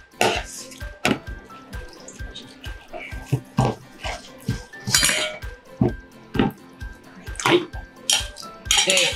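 A water and potato starch slurry is stirred into a pan of shrimp chili, with repeated metallic clinks and scrapes of a utensil against the pan in an uneven rhythm, close and fairly loud.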